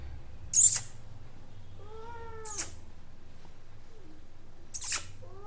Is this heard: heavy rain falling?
no